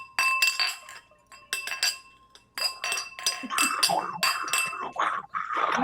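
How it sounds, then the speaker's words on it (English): Drinking glasses clink together in a toast, giving a quick flurry of bright, irregular chinks and rings, some overlapping, up close, with faint background murmur. "Can I get some clinks on that one?"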